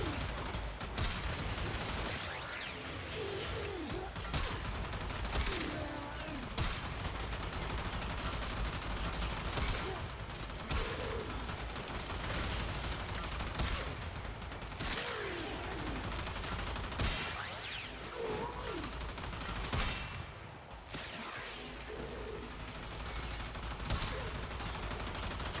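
Kuva Zarr shotgun fire in Warframe, repeated heavy blasts in a dense, fast barrage with explosive impacts over continuous loud game action.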